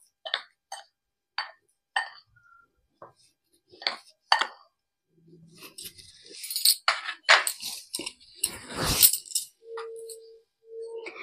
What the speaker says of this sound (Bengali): ভালো করে উপকরণগুলি মিশিয়ে নিচ্ছি।